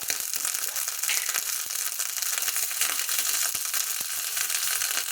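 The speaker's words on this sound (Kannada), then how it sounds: "ಬೆಣ್ಣೆ ಒಳಗೇನೆ ನಾವು ಸಾಸಿವೆ ಜೀರಿಗೆನ ಹುರ್ಕೊಬೇಕು" Mustard seeds and cumin frying in butter for a tambuli made with fresh turmeric root, giving a steady close sizzle with scattered sharp pops and crackles throughout, no talking.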